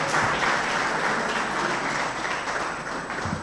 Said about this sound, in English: Can we please clap, applaud as we bring up the moderator for this panel session